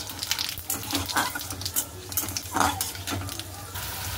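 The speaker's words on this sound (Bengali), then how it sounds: "এর মধ্যে দিয়ে দেবো এবার আলুগুলো।" Potatoes go into hot oil already frying whole cumin seeds and are stirred, making a close, bubbling sizzle with uneven splashy bursts and scraping as they move in the pan. No one speaks.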